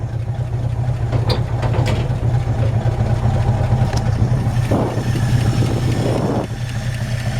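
The 302 V8 in a 1963.5 Ford Galaxie 500 R Code idles steadily and loudly up close, a constant low rumble with a couple of brief swells, and no one speaking.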